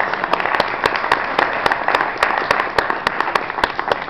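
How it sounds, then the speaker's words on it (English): Audience applause for candidates at a city council candidate forum in Kansas City, a steady round of clapping with sharp individual claps standing out near the microphone. "if we could just give a round of applause to all of these candidates who came out tonight"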